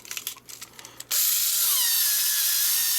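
A Fanttik NEX L1 PRO electric screwdriver strains under load, bursting from quiet rattling into a loud, steady high-pitched whirring grind that holds to the end, close and without speech.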